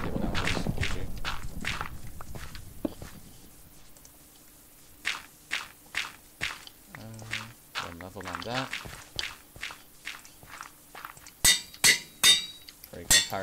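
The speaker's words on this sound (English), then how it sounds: "let me just grind some of this gravel" Gravel being dug out in a video game, a series of about a dozen crisp crunching hits at a steady pace, louder toward the end, after a brief rumbling start.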